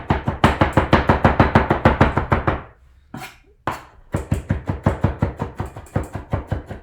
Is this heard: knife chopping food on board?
yes